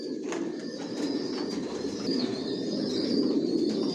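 Silver racing pigeons coo softly inside a loft, with low murmuring calls under a steady hum of room noise and a few faint chirps.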